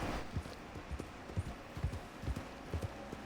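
A horse in Red Dead Redemption 2 huffs heavily with repeated low snorting breaths at a steady rhythm, fairly close against quiet outdoor ambience.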